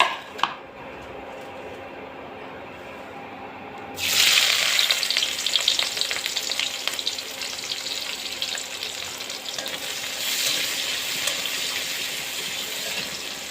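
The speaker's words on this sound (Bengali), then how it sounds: "এখন কড়াইয়ে দিয়ে দেব কেটে রাখা পেঁয়াজ।" Chopped onion dropped into hot oil in a wok bursts into a loud, sharp sizzle partway through after quieter stirring noise, then keeps frying with a dense, crackling hiss.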